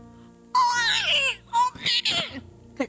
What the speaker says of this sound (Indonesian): Terdengar suara bayi kecil.